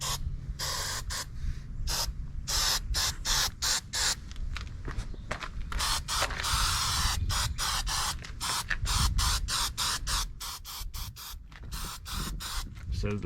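Aircraft paint remover sprayed onto aluminum truck wheels in a rapid series of short, close hissing bursts separated by brief gaps, repeating steadily throughout.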